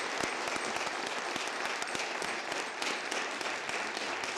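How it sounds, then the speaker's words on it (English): An audience at an annual lecture applauds a speaker with sustained clapping, individual sharp claps standing out crisply and near against a dense, steady background of hands. "Give one more round of applause for Dr."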